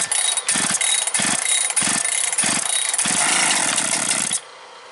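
A chainsaw with the choke pulled out is started near a tree stump. The engine is loud and close, with rhythmic sputtering bursts as it fires, then it cuts off abruptly.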